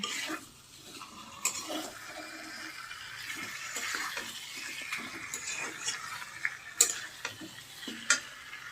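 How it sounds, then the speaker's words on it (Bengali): Chicken sautéed with spices in a pan, a low sizzle with scattered stirring clicks and scrapes of a utensil, fairly quiet and steady, a few sharper knocks near the end. "খুব ভালোভাবে কষিয়ে নেব।"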